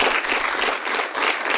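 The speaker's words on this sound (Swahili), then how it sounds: "Hebu tupigie wale wako nyumbani makofi" A live studio audience claps in a dense, continuous burst of applause, close and loud for a short moment with no one talking.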